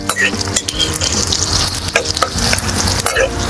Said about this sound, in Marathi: आता आपण एक मोठा कांदा असा बारीक चिरून घेतला होता तो याच्यात टाकून देऊया